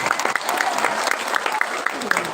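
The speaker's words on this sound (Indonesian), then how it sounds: "Tepuk tangan dulu." An audience claps at a high school anniversary event, steady dense applause with sharp individual claps, under faint crowd murmur throughout the short burst.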